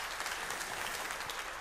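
A concert audience applauds steadily, a dense, even wash of clapping with no voices.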